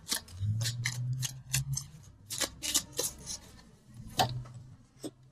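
Tarot cards shuffled and drawn from a deck at close range, a quick run of crisp papery snaps and flicks in uneven bursts over a faint low hum, with no voices.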